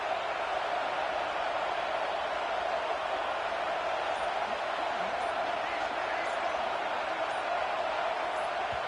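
Steady crowd roar fills a video game college football match against SMU, a broad continuous wash of cheering that holds level throughout without breaks.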